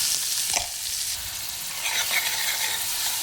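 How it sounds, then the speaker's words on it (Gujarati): Onions sautéing in hot oil with cumin, a bay leaf and asafoetida for a corn curry, a continuous close sizzle with brief stirring scrapes and no talking. "ઓનિયન જ્યાં સુધી સોતે થાય ને ત્યાં સુધી આપણે એને રહેવા દેવાનું છે"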